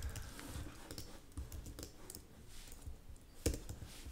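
Quiet, close typing on a computer keyboard, irregular clusters of soft key clicks with a slightly louder tap near the end.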